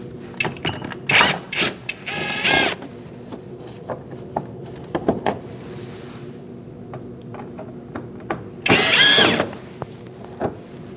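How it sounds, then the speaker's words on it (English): Bursts of a cordless power tool driving a T15 Torx bit to remove bolts from a 2016-2019 Chevrolet Cruze front inner fender liner, short whirring runs separated by clicks and handling noises. "Using a T15 Torx bit, we are going to remove our Torx bit bolts."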